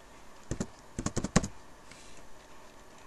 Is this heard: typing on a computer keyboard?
yes